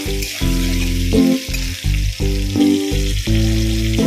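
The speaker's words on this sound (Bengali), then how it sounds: "পেঁয়াজটাকে ভালো করে একটু ভেজে নিতে হবে" Chopped onions fry in a pan for a fish, prawn and potato curry, giving a constant close sizzle over a pulsing low tonal hum that starts and stops in short blocks.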